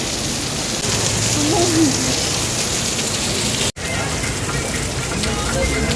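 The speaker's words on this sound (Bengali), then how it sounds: "সাংঘাতিক বৃষ্টি হচ্ছে বাইরে" Heavy rain pours outside as a steady, loud broadband hiss that runs the whole time, with a brief dropout partway through and faint voices beneath it.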